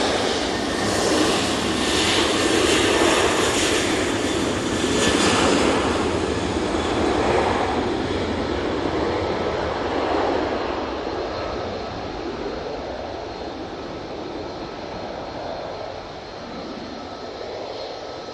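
An Aer Lingus jet airliner comes in to land at Manchester Airport with a loud, broad engine roar. The roar peaks early and slowly fades over about eighteen seconds.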